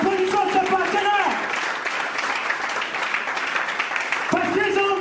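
Conference audience applauding the partners, a dense wash of clapping running steadily throughout while a voice speaks over it at the start and again near the end.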